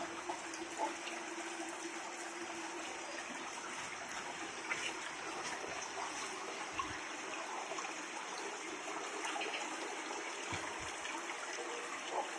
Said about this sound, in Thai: เป็นถ้ำน้ำรอดนะครับ น้ำไหลลงมาเนาะ